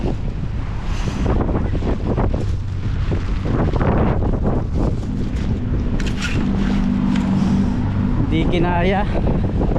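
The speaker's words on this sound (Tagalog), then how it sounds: "sobrang lakas ng hangin" Strong wind buffets the microphone in heavy, rushing gusts in New Zealand while people talk close by and traffic passes in the background.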